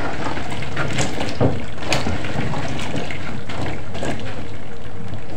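Water splashes and trickles over okra in a continuous, close, fairly loud wash of liquid noise with small bumps and knocks mixed in.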